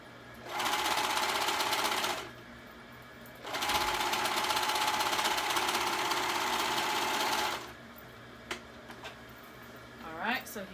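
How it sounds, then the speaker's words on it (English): A sewing machine stitches three layers of fabric onto a child's hoodie cuff in two steady whirring bursts, close and loud, separated by a pause, followed by a few small clicks and handling sounds. "I'm making sure I'm sewing all 3 of my fabrics at the same time, so I don't have a gap on my cuff"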